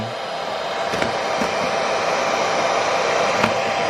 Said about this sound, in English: We got the blow dryer 1000.